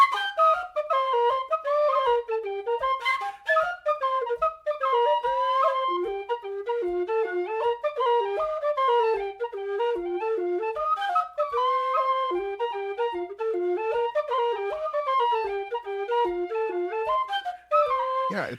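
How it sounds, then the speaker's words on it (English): Two tin whistles play the Irish tune Morning Post together in slightly sour harmony, bright ornamented melodic lines running continuously with a faint tapping pulse underneath. "Yeah, it's 2 whistles,"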